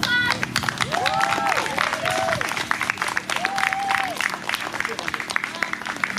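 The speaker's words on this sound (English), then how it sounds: "Give a round of applause." Outdoor crowd applause at a Justice for Sean Monterrosa billboard reveal in Vallejo, California, steady clapping with whoops and shouted voices mixed in throughout.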